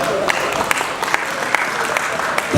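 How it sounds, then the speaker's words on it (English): An audience at the Lit O Fest literature festival breaks into warm applause after a biography and autobiography panel, a full, even clatter of many hands with a few sharper claps standing out. "Let's have a big applause for all of them."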